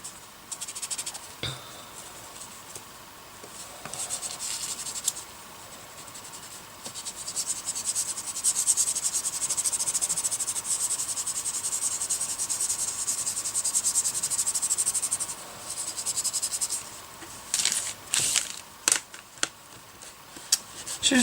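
Dry sanding of polymer clay (Fimo) with Abranet abrasive mesh, a continuous close hiss of rubbing strokes with brief pauses and taps near the end.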